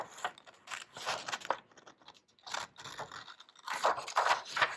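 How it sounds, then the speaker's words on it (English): Scissors snip and scrape through paper in a run of quick, irregular cuts while the sheet is twisted, close and quiet, with crinkling between cuts and no talk. "When I'm cutting, I like to keep my scissors in place, and then I'm twisting my paper."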